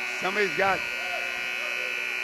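A steady electronic buzz, like an arena alarm or buzzer, drones continuously through a basketball gym during a men's college game between ECC and Lorain County CC, with a commentator talking briefly over it at the start.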